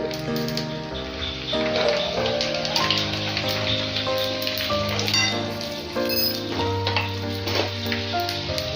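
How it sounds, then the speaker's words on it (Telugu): Leftover roti or chapati pieces frying in hot oil until golden brown, a steady dense sizzle and crackle running continuously throughout, with no voices. "ఇలా మంచి గోల్డెన్ బ్రౌన్ కలర్ రావాలి అంతవరకు ఫ్రై చేసుకున్నారనుకోండి"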